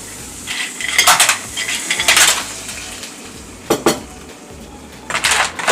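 Clams tumbled into a metal pan and stirred, loud clattering shell-and-utensil scrapes in several bursts against a low cooking hiss, no talking.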